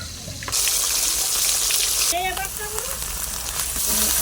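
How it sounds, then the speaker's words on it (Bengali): Onion paste dropped into hot oil left from frying fish bursts into a sudden, loud, steady sizzle close by, with a few faint squeaks and clinks over the hiss. "পেঁয়াজ বাটা দিয়ে দিলাম মাছ ভাজা তেলের ভিতরে"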